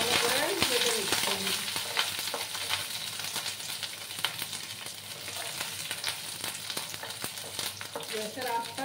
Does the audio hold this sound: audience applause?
no